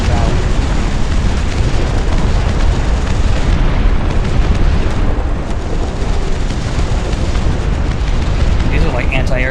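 Dense, continuous barrage of booms and bursts from anti-aircraft turrets in the Dust Front RTS strategy game, loud and close, with rapid overlapping detonations and talk on top.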